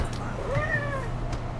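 A house cat lets out a single drawn-out meow with a rising then falling pitch, close and clear over a steady low background hum.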